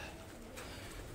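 Western pigeon caught in a mist net gives a soft, faint coo through steady background hiss.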